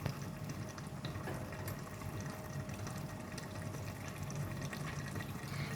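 Boiled broth pours steadily into a pot for Pakistani biryani, with a soft, continuous gurgling splash, fairly quiet and close, with no voices.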